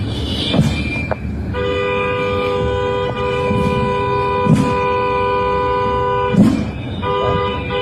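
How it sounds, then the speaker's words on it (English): Loud sustained horns blare in a street scene during a shooting incident in Minneapolis, with long steady tones and a few sharper bursts, car traffic audible throughout and no talk. "the first thing I hear is I hear a lot of horn blowing"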